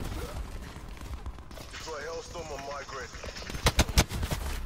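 Gunfire in the Call of Duty Black Ops 4 beta bursts as a quick string of four or five loud shots near the end, following a stretch of people talking over game noise.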